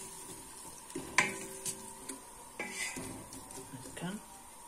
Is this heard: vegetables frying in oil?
yes